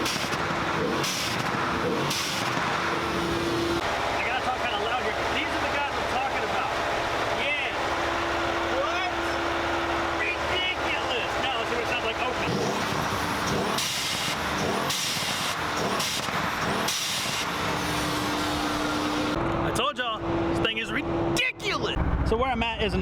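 Mercedes car cruising on the road with the hood closed, its engine and road noise forming a continuous, fairly even hum and rumble beneath someone talking throughout.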